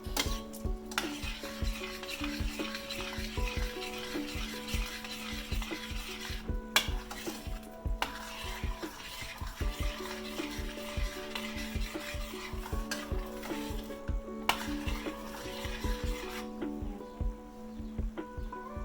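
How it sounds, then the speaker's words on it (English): A chickpea breakfast (musebha) simmers on low heat in a pot while being stirred: a spoon scrapes and clinks steadily and continuously against the pot over a soft sizzling bubble, close up, with no speech. "and we want to add it and let it simmer."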